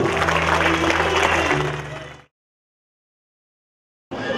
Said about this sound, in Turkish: Kuvvetli bir alkış lütfen